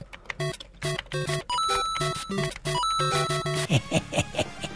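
Bright, chiptune-style Mario Bros. blips and bleeps fire in quick bursts as keys are typed, one after another, each a short retro game tone; no voices.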